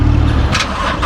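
A Lykan supercar engine fires up outside a showroom, a loud, steady low rumble throughout with a brief rising rev midway and no voices.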